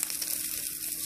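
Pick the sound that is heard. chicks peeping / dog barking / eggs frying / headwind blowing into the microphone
eggs frying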